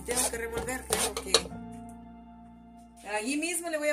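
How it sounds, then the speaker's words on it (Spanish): A spoon clatters noisily against a pot in a few bursts of metallic scraping and clinking, then goes quiet for a moment before the clatter resumes, close and fairly loud. "me agarré una cuchara que hace mucho ruido y tengo que revolver."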